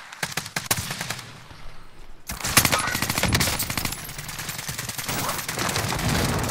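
Rapid bursts of assault rifle fire from a multiplayer shooter game ring out loud and close, short volleys at first, then nearly continuous automatic firing with overlapping shots.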